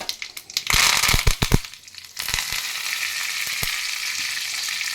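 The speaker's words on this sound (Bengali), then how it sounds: "তরকা প্যানের মধ্যে একটু সর্ষে দেব ফোড়ন দিচ্ছি একটু সর্ষে দিয়ে দিলাম" Mustard seeds and curry leaves crackle and pop in hot oil in a tempering pan, with sharp close snaps first and then a steady loud sizzle.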